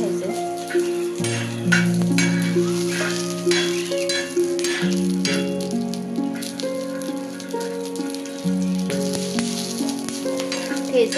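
Green chillies and garlic roast in a pan for thecha, giving a steady, close crackling sizzle that runs unbroken under prominent background music.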